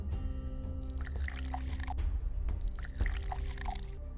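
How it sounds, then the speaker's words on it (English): Liquid poured into a vessel inside a bioengineering lab in the video game Creature Lab, a steady splashing stream with a few brighter drips and gurgles, running continuously and moderately close. "Pour it into this vessel."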